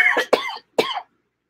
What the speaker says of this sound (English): That's like a legitimate cough.